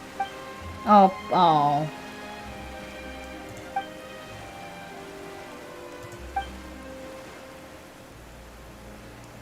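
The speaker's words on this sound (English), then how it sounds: "Why is it raining all of a sudden?" Steady soft hiss of rain falling in the video game Genshin Impact, a continuous even wash of drops under background music, with a brief vocal exclamation near the start.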